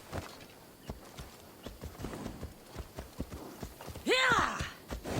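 Rhythmic hoofbeats of a horse in Assassin's Creed Odyssey, steady clip-clop over ground, with a short loud neigh near the end; a voice speaks briefly over the hooves.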